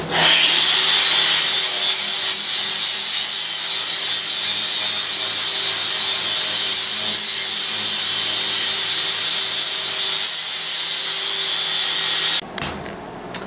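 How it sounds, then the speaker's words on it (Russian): Sandpaper on a power tool smoothing welded seams on a steel profile tube, a steady close abrasive hiss that runs unbroken for twelve seconds before cutting off abruptly. "Потом наждачку поставим. Уже больше так аккуратнее шлифануть надо."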